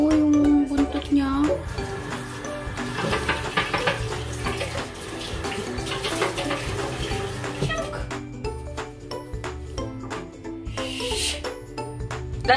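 Water splashes and trickles steadily as it is poured into a small pet fish's container, close and fairly quiet, with clinks of the container and some background voices.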